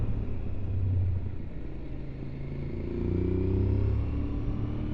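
An Aprilia Tuareg 660 motorcycle engine rumbles steadily while riding through corners, a low continuous drone that swells and eases slightly with throttle, close and alone without talk.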